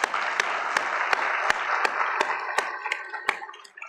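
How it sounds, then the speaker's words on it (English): Audience applause at a 2016 State of the City address, a steady wash of many hands clapping with a few sharp louder claps standing out, sustained then tapering off near the end. "That's cause for applause, folks."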